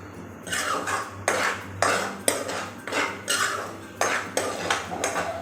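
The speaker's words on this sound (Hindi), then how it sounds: "मुसलसल आपने चमचा हिलाते रहना है और इसको भूनते रहना है" A metal spoon stirs semolina roasting in a pan, making loud, repeated scraping and clanking strokes at an uneven rhythm, close up and with no voices.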